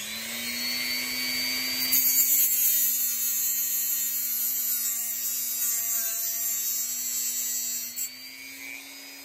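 Power tool grinding material off an edge, giving a steady high whine with a constant hum underneath that shifts slightly in pitch partway through and briefly dips near the end.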